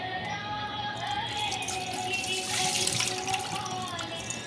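Water pours and splashes steadily into a sink or basin, close by, with faint voices in the background.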